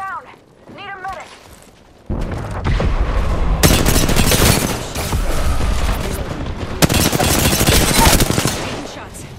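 Heavy automatic gunfire in a video game battle, loud sustained bursts of rapid shots with booming impacts, preceded by a brief synthetic voice.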